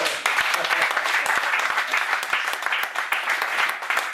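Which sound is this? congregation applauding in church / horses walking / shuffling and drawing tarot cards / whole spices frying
congregation applauding in church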